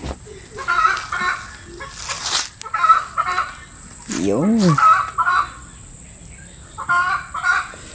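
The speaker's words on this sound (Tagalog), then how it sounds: "Gagalit talaga yung manok." A chicken clucks in agitated bursts, then lets out a loud drawn-out squawk, with brief speech at one point.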